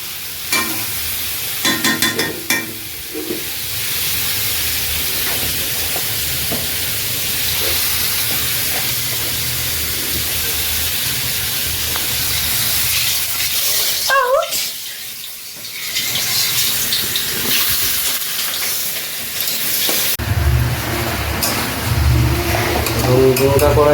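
Meat being fried in oil in a wok, a steady broadband sizzle with stirring scrapes running through most of the span, briefly dropping out midway before resuming loudly.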